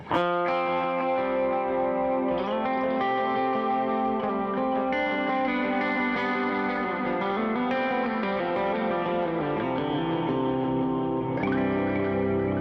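Clean electric guitar through an effects pedal on a pedalboard, chorus and echo shimmer, sustained chords and arpeggiated notes ringing steadily and upfront with no talking.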